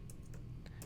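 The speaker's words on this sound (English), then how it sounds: "I'm just typing this in" A few quick, faint keystrokes tap on a computer keyboard in a brief burst over a low steady hum.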